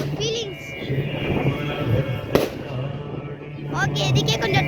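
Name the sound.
firecrackers bursting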